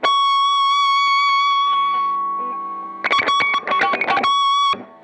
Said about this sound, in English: Hear that? I'm shredding.